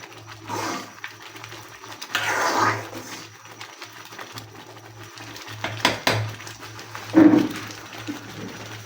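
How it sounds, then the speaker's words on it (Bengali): A spoon stirs condensed-milk semolina in a pot with quick, repeated scrapes and clinks against the metal, some louder knocks standing out above a low steady hum. "ঘন ঘন নাড়াচাড়া করছি তার কারণ হচ্ছে তলায় লেগে যেতে পারে"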